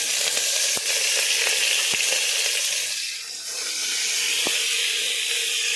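Onion and fenugreek leaves frying with spices in hot oil, a steady close sizzle and hiss, with occasional sharp ticks of stirring and a brief softening midway.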